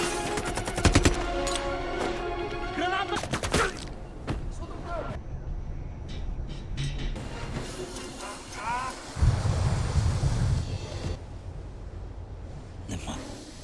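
Movie gunfire from the action film Expend4bles, with bursts of rapid shots and sharp cracks in the first few seconds, set within a dense, loud film soundtrack of rumble, impacts and music.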